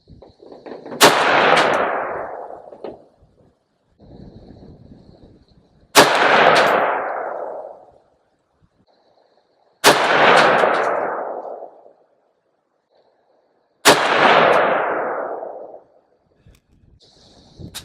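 MARCK-15 Hydra rifle firing 5.56 rounds at a range, four loud sharp shots spaced a few seconds apart, each with a long decaying echo.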